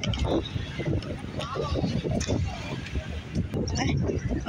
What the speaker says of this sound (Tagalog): Oh, ang lakas ng hangin.